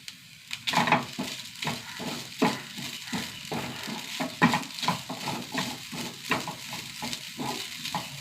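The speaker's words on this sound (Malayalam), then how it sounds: "തേങ്ങ നന്നായി വറുത്തെടുക്കുക." Grated coconut with shallots and curry leaves roasting in a pan, a soft continuous sizzle broken by frequent scraping stirs of a spatula against the pan.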